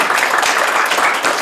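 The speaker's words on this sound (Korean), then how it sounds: "박수 치세요." A lecture-hall audience at a youth forum gives sustained, dense applause, many hands clapping steadily without a break.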